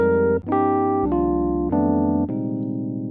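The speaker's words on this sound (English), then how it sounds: "we're going to start with the default patch, the classic electric piano." Default classic electric piano patch in Logic Pro playing four sustained chords in sequence, each struck cleanly and ringing out alone with a soft, bell-like tone.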